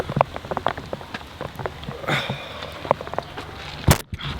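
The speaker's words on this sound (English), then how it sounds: "It's raining." Rain pouring down outdoors, a steady close patter of heavy drops striking surfaces with scattered louder splats, heard alone without voices.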